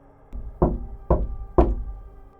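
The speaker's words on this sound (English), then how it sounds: "No doorbell. Just knocking." Three quiet, evenly spaced knocks on a front door at night, each a dull thump, heard alone in a hushed house.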